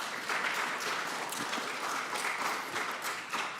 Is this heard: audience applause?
yes